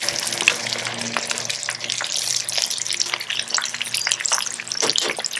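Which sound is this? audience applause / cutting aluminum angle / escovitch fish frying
escovitch fish frying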